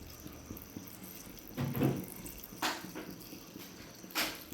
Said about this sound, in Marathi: पाणी टाकून आपण ते ना स्वच्छ अशी धुवून घेऊया